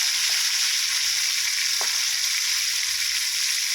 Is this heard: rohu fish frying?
yes